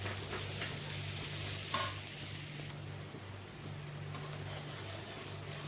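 Chopped onion frying in oil in a pan, giving a steady soft sizzle with scraping stir strokes, a brief louder clatter near the middle, and the crackle easing slightly partway through.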